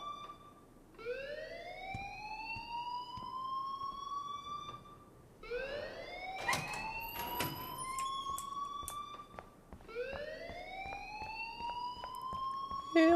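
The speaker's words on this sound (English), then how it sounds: "please turn off that alarm since that's your job" An alarm blares in the Life Is Strange video game, three long rising siren-like wails sweeping upward one after another, with brief clatter and thumps around the middle.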